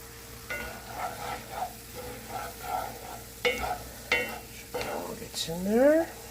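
Ground meat stirred in a cast iron skillet as it gets taco seasoning, with scraping strokes over a steady sizzle, several clattering scrapes and a sharp squeak near the end; no talking.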